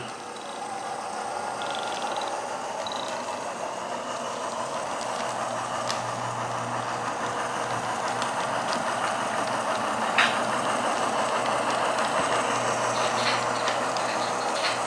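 A model train rolls steadily around a layout, giving a continuous close rumble with faint clicks and metallic ticks from the track and a low motor hum throughout.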